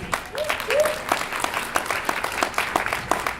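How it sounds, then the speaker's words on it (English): Audience applause at a middle school gathering, scattered, uneven claps rising and falling, with a brief voice near the start. "So a great round of applause for her, please."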